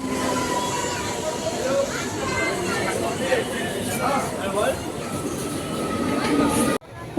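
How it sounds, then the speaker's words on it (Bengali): A passenger train heading toward town, heard from inside a carriage as a steady rumble and hiss with background chatter and voices throughout, ending in a brief abrupt drop. "উঠে পড়েছি ট্রেনে"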